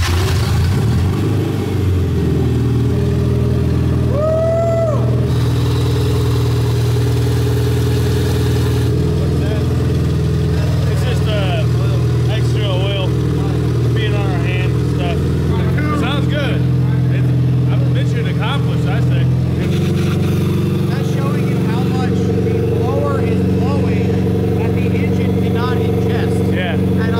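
Supercharged 1.8 L engine swapped into a cheap Mazda Miata, running steadily just after starting, with a loud, constant low engine drone throughout and people talking and cheering over it.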